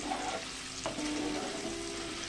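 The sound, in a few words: paneer cubes lightly frying in a pan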